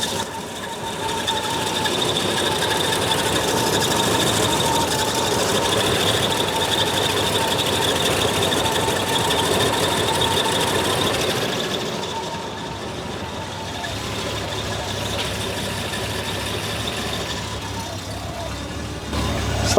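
A Holden VK Berlina barn-find engine running rough after old transmission fluid burned off the cylinders, a loud continuous droning idle with a faint irregular beat, close by, easing slightly in level partway through.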